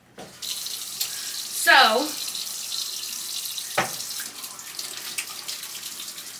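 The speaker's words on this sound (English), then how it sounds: "Let me wash my hands." Tap water runs at a kitchen sink for handwashing while a smoothie is made, a short rushing splash near the start followed by a steady faint flow, with brief talk heard once.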